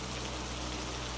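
Steady rain falls continuously at close range, a dense, even hiss of drops on a surface with no gaps and no voices over it.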